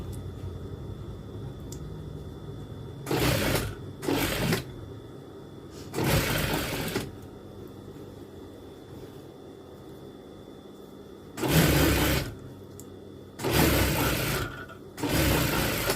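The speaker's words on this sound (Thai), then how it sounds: "เสร็จแล้วเราก็จะเย็บเข้ามาเลย" A sewing machine stitches the hip seam of a garment, running in several short, loud whirring bursts separated by quiet pauses.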